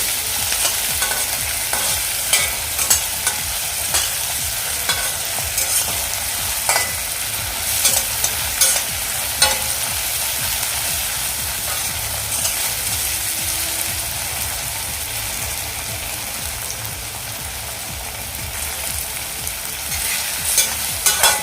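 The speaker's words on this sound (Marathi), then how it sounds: "आता यामध्ये मी टॉमॅटो घालून घेते आणि तो आपलं थोडंसं सॉफ्ट होईपर्यंत आपण हे परतून घ्यायचं आहे" Tomatoes sautéed with softened onions in a pan for a Maharashtrian aubergine and potato curry, a steady sizzle with frequent stirring scrapes close by, no talk.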